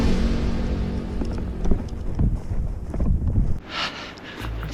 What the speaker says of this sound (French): Je sais pas si vous entendez, il y a beaucoup de vent.